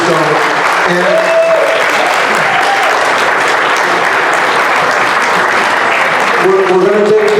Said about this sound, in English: Let's give a big round of applause for Mr. Sullivan.